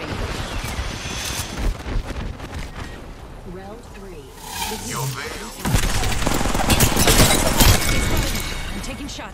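Heavy video game gunfire with shots striking the player's shields, bursts of rapid fire and shattering impacts, growing louder and denser in the second half, with a voice talking over parts of it.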